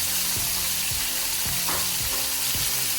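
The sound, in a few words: jerk sauce simmering in a pan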